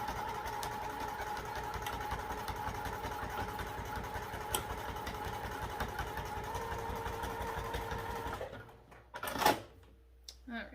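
A sewing machine runs steadily close up, top stitching through foam on a crossbody bag, a fast even mechanical chatter lasting about eight seconds before stopping, followed by a brief handling rustle.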